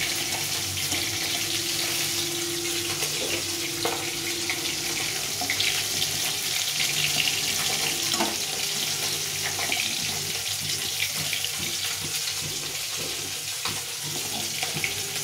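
Fish frying in a pan in a home kitchen, a steady, dense sizzling hiss that runs without a break and stays fairly close, with no voices over it.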